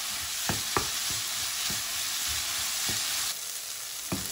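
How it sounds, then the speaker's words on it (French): Onions and chicken curry frying in a pan over medium heat, a steady close sizzle with a few soft scraping clicks as the mixture is stirred, no voices. "Et puis, je viens mettre les oignons. Voilà. Je mélange bien l'ensemble."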